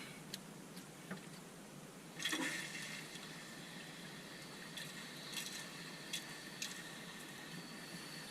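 Water runs into a toilet tank refilling after the supply is turned back on, heard as a faint, steady hiss and trickle with a few small ticks and knocks, distant and quiet, with no talking.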